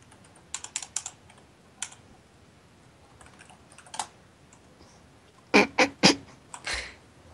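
Typing on a computer keyboard during a GTA 5 gaming session: scattered, close key clicks, a few taps, then a quick flurry of louder clacks near the end, with a quiet background.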